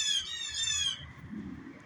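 A single bird gives a harsh, buzzy squawk near the mic that lasts about a second, then stops, leaving faint low rumbling behind it.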